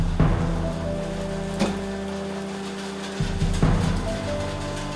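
Steady rain falls outdoors, a continuous hiss with a few sharper drops and low rumbles, fairly loud and with no talking.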